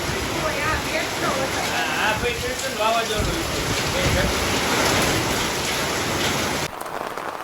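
Heavy downpour in a village, a dense, loud, continuous roar of rain pounding surfaces nearby, with a voice briefly audible early on before the sound cuts abruptly to a different, rougher rain texture.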